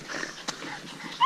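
Dogs whimper and yip during a rat hunt in South Wales, a brief high whine and short yelps close by with faint background noise.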